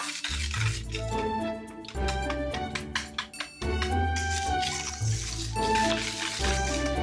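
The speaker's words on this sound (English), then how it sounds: "we're gonna add some milk. And then some eggs." Milk and eggs pour into a bowl of sugar soaked with melted butter while making a chess pie, a steady liquid glug and splash with light clinks of the bowl, close and continuous with brief breaks.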